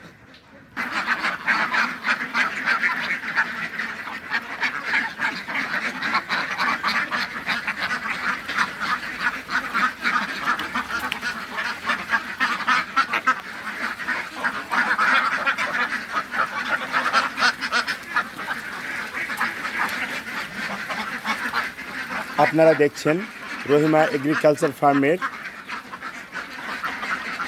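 A dense, continuous chorus of quacking ducks fills a duck farm at Rahima Agriculture Farm, steady and close throughout. Someone talks over it for most of the clip.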